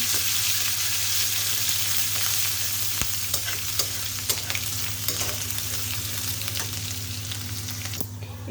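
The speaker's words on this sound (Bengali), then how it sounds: "আর কিছু ফোড়ন দিয়ে দেব একটু আদা দিয়ে এখন হচ্ছে সুন্দর করে ভেজে নিব মশলাগুলো" Whole cumin, tempering spices and ginger fry in hot oil in a pan, giving a steady loud sizzle with occasional light clicks of a stirring spoon.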